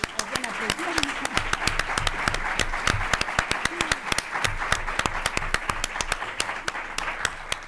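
Applause from a lecture audience in a hall: dense, steady clapping from many hands, loud and sustained throughout with sharp individual claps standing out.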